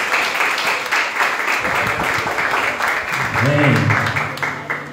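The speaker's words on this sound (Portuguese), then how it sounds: "Você pode aplaudir o Senhor?" A church congregation applauds with a steady patter of clapping, while a voice speaks over it near the end.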